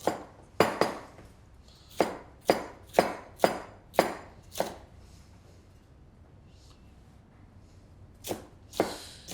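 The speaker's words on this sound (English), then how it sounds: "Red pepper, we'll cut it quite small because we want it to cook quite fast." A knife chops a red pepper into small pieces on a board, about a dozen crisp, close knocks coming in quick bursts, then a pause, then a few more.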